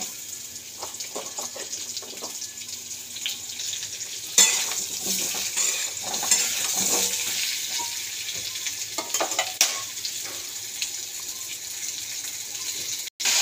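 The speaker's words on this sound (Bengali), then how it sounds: "তো এবার যে তেলটা বেঁচে আছে তার মধ্যে কালো জিরে আর আলুটা দিয়ে দেবো। তো একটু আলুটা ভাজা ভাজা হোক।" Potato pieces and black cumin fry in hot oil, a continuous bright sizzle that swells louder midway, with scraping stirs and utensil clinks against the pan and no talking.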